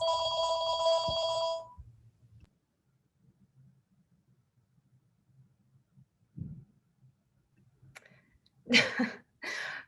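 A telephone rings with a bright electronic trill lasting under two seconds, then stops. Quiet room noise follows, with a few soft thumps and brief coughs or sneezes near the end.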